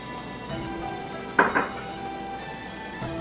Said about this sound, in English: my ginger usually needs to be cooked a little bit to get the flavors out. So I'm putting about 5 slices.